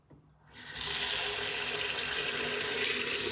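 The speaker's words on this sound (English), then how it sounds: "we're going to wash the rice until the water comes out clear" Tap water gushes steadily into a bowl of rice being washed after a moment of quiet, a continuous splashing rush that stays loud throughout.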